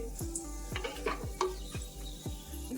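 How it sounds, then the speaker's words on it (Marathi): Whole garam masala spices, bay leaf, cinnamon, black cardamom, cloves, black pepper and star anise pieces, sizzling in hot oil for biryani, with a run of sharp clinks and scraping stirs over a low crackle, close up. "अख्खे गरम मसाले टाकते आहे."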